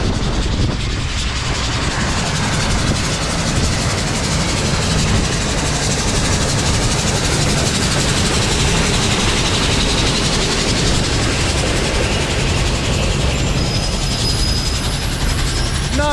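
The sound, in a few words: train passing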